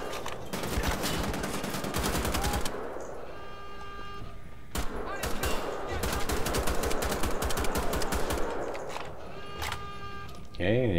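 Automatic weapon fire in Wolfenstein: The Old Blood, with dense rapid bursts rattling loudly and nearly continuously, broken by short gaps, while someone talks over the shooting.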